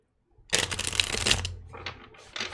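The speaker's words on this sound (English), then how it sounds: "I'm shuffling the wrong deck" A deck of tarot cards being shuffled by hand in a quiet room, a dense papery riffle of about a second that fades into softer card rustles and a brief second flurry.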